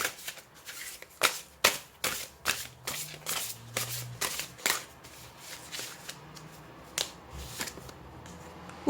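Tarot cards shuffled by hand before a draw, giving a steady run of soft, crisp riffles and snaps at close range with no talking.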